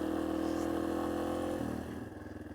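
Yamaha XT250 trail motorcycle ridden along a tight cliff-edge trail, its engine droning steadily up close before the revs drop and settle into a lower, pulsing idle-like chug.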